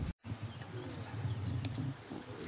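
Racing pigeons come home to their loft in Lniski, Poland, with soft cooing and faint chirps over a low outdoor rumble and a few light knocks, heard quietly and at a moderate distance.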